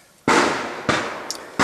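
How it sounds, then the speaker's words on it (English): Rifle volley fire at a pop-up target range: three sharp, loud gunshots crack out close by, spaced less than a second apart, each followed by a brief decaying tail. "so that's why you're getting the volley fire and stuff"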